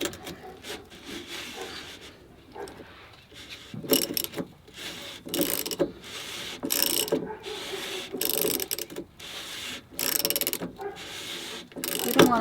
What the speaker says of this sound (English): now you just tighten it